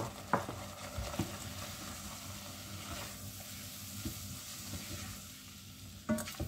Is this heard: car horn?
no